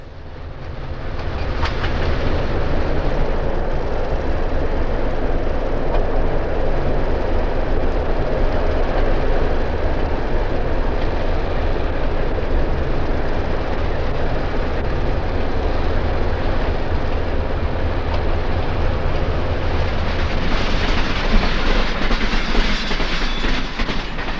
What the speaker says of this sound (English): The eastbound Texas Chief bears down on Joliet.